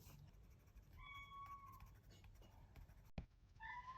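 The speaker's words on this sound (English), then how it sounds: "I don't know if you can hear my cats in the background meowing." Several house cats meow faintly in the background, a few short tonal cries spaced over a quiet room with light scratching nearby.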